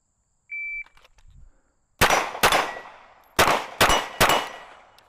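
Five sharp pistol shots from a Glock 19 fitted with a red dot sight, each ringing steel targets with a bright metallic clang. They come in two quick bursts of two and three, preceded by a shot-timer beep, loud and close.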